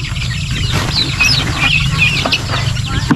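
Farm chickens cluck loudly and continuously at close range, with overlapping calls over a low background hum and no speech.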